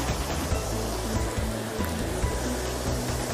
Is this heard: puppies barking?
no